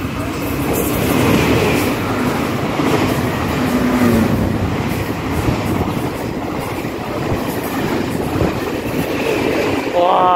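A PP-type Tze-Chiang express train runs loudly past Tianzhong station, a continuous close rumble of wheels and cars with rhythmic rail clatter throughout, and a brief horn-like tone near the end.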